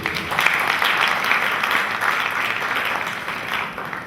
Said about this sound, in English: So please clap for us.